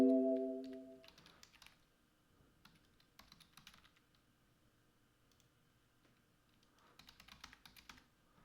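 Bursts of quiet computer keyboard typing while logging in, short clusters of rapid key clicks separated by pauses, preceded by a brief tone at the start.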